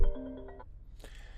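A phone's ringtone or notification chime sounds briefly at close range, a few bright melodic tones in the first half, then fades into faint room background.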